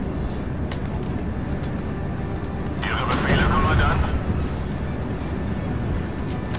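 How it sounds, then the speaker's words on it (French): A cannon fires in Steel Division: Normandy 44, a WWII strategy game, with a heavy boom swelling midway through over a constant rumbling battle bed while someone talks. "Ouais, c'est un canon."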